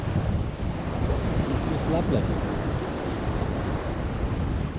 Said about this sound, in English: Nice gentle swell underneath the waves.